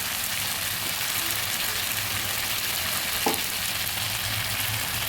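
Chopped green chillies drop into spices frying in oil for a baby banana curry, giving a steady close sizzle with a brief spatter partway through; no one speaks.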